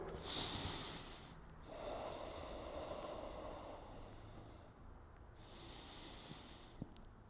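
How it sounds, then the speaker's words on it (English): Heavy, close breathing during shoulder stretching exercise: long noisy inhales and exhales, a few rough snorting breaths, faint and steady with no talking. "Apologize for my heavy breathing"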